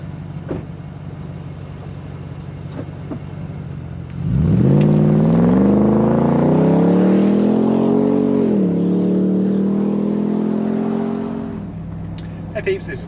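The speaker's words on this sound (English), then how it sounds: "Dash cat back exhaust 0 to 100." A Nissan Patrol Y62 fitted with a DASH cat-back exhaust revs up and accelerates hard from a standstill, its deep exhaust note climbing steadily in pitch for several seconds, loud and close, then easing off.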